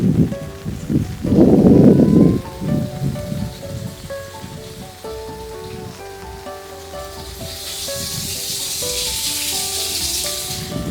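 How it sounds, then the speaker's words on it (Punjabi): Steady heavy rain hisses throughout in Australia, with a loud rushing burst near the start and a brighter spray of patter toward the end, as water runs off roads into drains. "ਪੂਰੇ ਜੋਰਾਂ ਤੇ ਮੀਂਹ ਸ਼ੁਰੂ ਹੋ ਚੁੱਕਾ ਵਾ"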